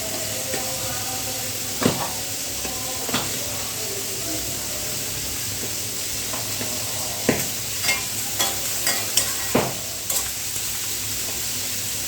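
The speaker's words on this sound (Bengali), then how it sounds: "কিছু সময় নাড়াচাড়া করব, হালকা লবণ দিয়ে দেবো যাতে করে পেঁয়াজটা তাড়াতাড়ি হয়" Sliced onions with garlic and a little salt sizzle in a pan under a steady hiss. Occasional scrapes and clinks come from stirring, with a cluster of sharper taps near the end and no talking.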